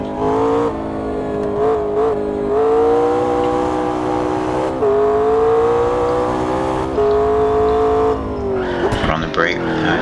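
Race car engine in the Automobilista 2 racing game, a loud, steady high-pitched drone that rises and falls through gear shifts and lifts off the throttle, with brief dips near the end; a driver talks over it.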